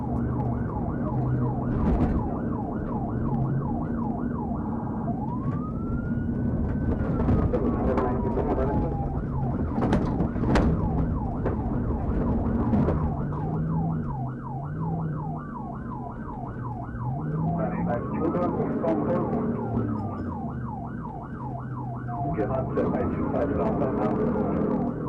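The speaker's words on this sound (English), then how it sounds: "When Doña Ana County deputies flipped on their sirens, the kid didn't hit pause." Wailing police sirens sweep up and down loudly and continuously during a high-speed pursuit by county deputies, with vehicle noise underneath and occasional bursts of other sounds.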